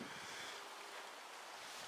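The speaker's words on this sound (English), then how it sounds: "Pardon me if the wind is bad." Steady wind blowing hard across an open lakeshore in Algonquin Park, a continuous rushing roar with gusty buffeting low down, loud and close with no voices.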